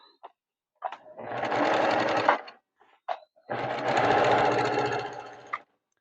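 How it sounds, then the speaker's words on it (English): Sewing machine stitching a patchwork seam, heard as two steady, close motorized runs of about one and two seconds, separated by brief clicks and handling noises, with no speech. "And you want to sew all of these with a 1/4 inch seam."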